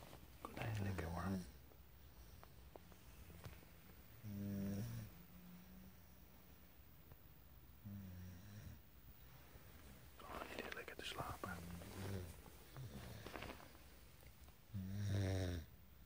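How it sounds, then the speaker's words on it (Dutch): A pet rabbit asleep indoors snores in slow, regular breaths roughly every few seconds, each one a faint, rough, wheezy burst, with soft whispered talk close by. "Snurken."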